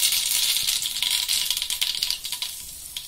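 Mustard seeds and asafoetida crackle in hot oil at the start of a tender cluster fig vegetable dish, giving a close, continuous dense spatter of sharp pops and sizzle with no talk.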